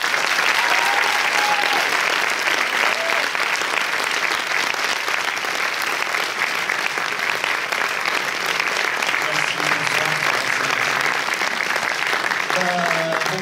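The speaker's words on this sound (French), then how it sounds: "Je vous demande de faire un tonnerre d'applaudissements pour son réalisateur, Robin Campillo." Sustained applause from a cinema audience greeting the director of 120 battements par minute at a screening, a dense, steady clapping that fills the whole stretch, with a few faint voices surfacing near the end.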